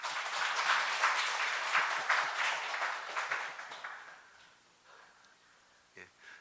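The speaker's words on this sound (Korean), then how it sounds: "박수 한번." Congregation applause inside a church during a Christmas Day Sunday service, a dense burst of many hands clapping that holds steady for about four seconds, then thins and fades out, with faint voices at the end.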